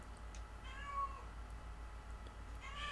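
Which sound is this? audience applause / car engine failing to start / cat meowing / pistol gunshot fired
cat meowing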